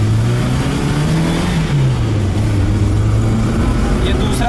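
A 2002 Hyundai Santro car accelerates in second gear on a highway, its steady mid-pitched engine drone rising slightly in pitch, with continuous road and wind noise throughout.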